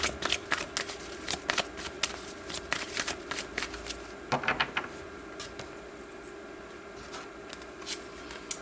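Tarot cards are shuffled in a run of quick, crisp riffling bursts and soft slaps, close and fairly quiet, with irregular pauses between the bursts and no voice over them.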